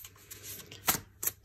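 Tarot cards being shuffled by hand, a quiet crisp riffle with a couple of sharper snaps of the deck, close and soft, with no talking.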